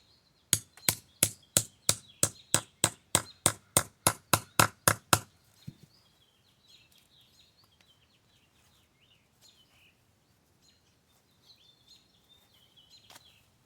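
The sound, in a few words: hammering a Harbor Freight grommet hole punch through thick material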